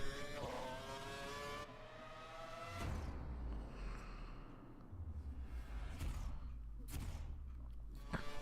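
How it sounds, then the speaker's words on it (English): F1 2012 race car in a video game at Spa-Francorchamps, engine rising in pitch as it accelerates, with a steady high whine and several sharp gear-change cuts, loud and close throughout. "Accelerating down to the first corner, braking nicely."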